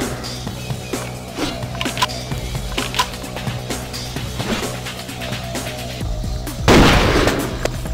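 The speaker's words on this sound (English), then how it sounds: "How do you like my phosphorus rounds?" Phosphorus shotgun rounds fired in Vampire: the Masquerade - Bloodlines, a string of sharp booming blasts spaced irregularly, with a heavier burst near the end, loud and close with no talk.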